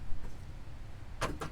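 Chevy Avalanche pickup answering a key fob lock command, two short quiet chirps or clicks in quick succession near the end, over faint low background rumble.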